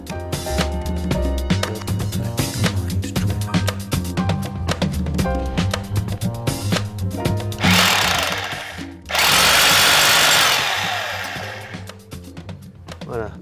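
A power drill bores pilot holes into a wall for a shelf rail, with short whirring bursts early on and then two loud, sustained drilling runs near the end.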